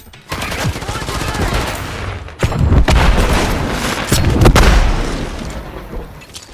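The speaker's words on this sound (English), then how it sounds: "Blast incoming! Frag out!" Grenade explosions in a video game: two heavy, close booms land a couple of seconds apart amid a dense spray of rapid gunfire-like bursts, with no clear talk.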